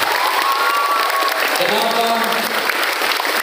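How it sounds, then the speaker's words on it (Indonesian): A crowd applauds for school students at an Islamic junior high school, clapping steadily and close throughout, with a voice speaking briefly over the sound. "Tepuk tangan buat kalian semua."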